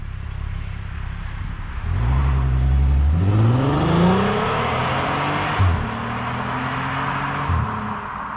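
A 2010 Volkswagen Passat R36 engine revs hard in a few rising sweeps, then drops back and gives a couple of sharp throttle blips, loud and close with no talking.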